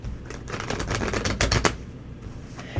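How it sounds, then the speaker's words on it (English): A deck of playing cards being shuffled, a dense run of quick riffling clicks and flutters close by, building in the middle and tailing off, with no talking over it. "let's give these a good shuffle for Jeremiah"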